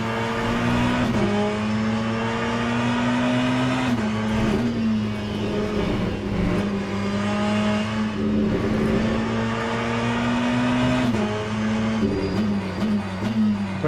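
A Ferrari 488 race car engine in the video game Le Mans Ultimate howls around the Bahrain circuit, holding loud sustained revs with rises and dips between gear changes.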